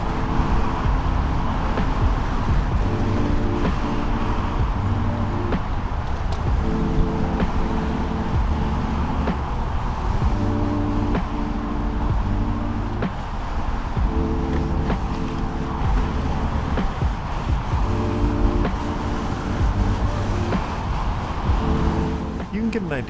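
Loud, steady road traffic roars past on the Interstate 5 bridge over the Columbia River, with dense engine and tire noise close by throughout and rhythmic low thumps from the bridge deck.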